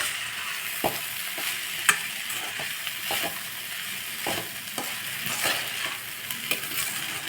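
Rice being stirred into salted cabbage in a pan on low heat: a steady soft sizzle with irregular scraping and clinking strokes of a spoon scattered through, close and fairly quiet, no voices.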